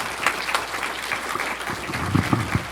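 An audience applauds after an expert discussion of the 1953 film The War of the Worlds in Corona, California: a steady patter of clapping hands throughout, swelling slightly near the end.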